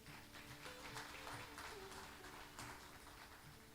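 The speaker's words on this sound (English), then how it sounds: "Round of applause, please" Applause rises from an audience at a nighttime temple murti consecration festival as guests are called on stage, a steady wash of many hands clapping at moderate distance, faint and continuous.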